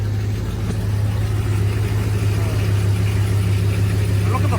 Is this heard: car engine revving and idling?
yes